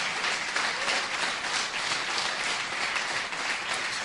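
Church congregation applauding during a Spanish-language service, a steady, dense roar of many hands clapping together without pause, loud and even throughout.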